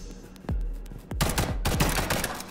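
Gunfire in the video game Liberated: a single shot, then rapid bursts of automatic fire with several sharp reports, fairly close and loud, with no talking.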